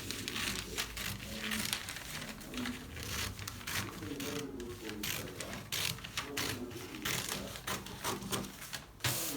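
Scissors cutting out a paper corset pattern along a curve, with a quiet, close run of crisp snipping and crinkling paper that continues without pause.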